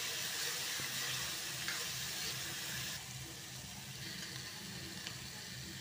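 Ginger garlic paste sizzling in onion puree in a pan, a steady close hiss with faint stirring, the frying noise dropping slightly partway through.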